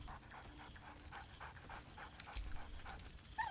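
A dog companion in the video game Baldur's Gate 3 panting in quick rhythmic huffs, with a faint whine near the end, quiet and close with no talking.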